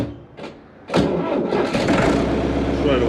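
A Deutz Fahr 4.50 tractor engine cranks briefly with a short stutter, then catches and settles into a loud, steady diesel idle.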